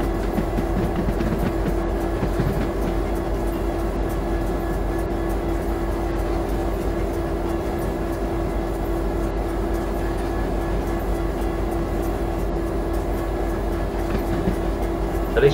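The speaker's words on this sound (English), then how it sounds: "At least we're going downhill now, so the train's going to start accelerating all on its own." A CSX SD80MAC locomotive hauls a coal train downhill on the Norfolk Southern Coal District in Train Simulator 2015, giving a continuous, even engine and rail rumble at a steady loudness with no talking.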